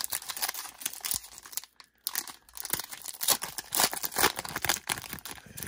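A 2016-17 Panini Threads trading card pack wrapper is ripped open close up. It gives loud, uneven crinkling and tearing bursts with a short pause partway through.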